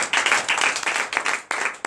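A congregation at a night deliverance and prophecy church service bursts into applause for Jesus, dense rapid clapping from many hands that carries steadily for a couple of seconds with a few louder accents.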